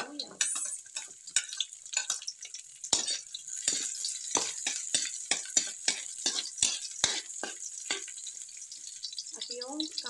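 Garlic and onion frying in cooking oil, a steady bright sizzle with repeated sharp clinks and scrapes of a utensil against the pan, close and clear.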